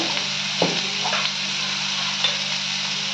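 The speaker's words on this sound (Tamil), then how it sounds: "போட்டுட்டு நல்லா ஃப்ரை பண்ணி விடுங்க" Steady sizzling of onions and spices frying in a hot pan, with a few soft stirring scrapes, close and continuous with no voices.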